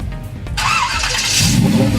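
A classic car engine cranks briefly then catches, settling into a loud, close idle with a rising rumble, alone without talk.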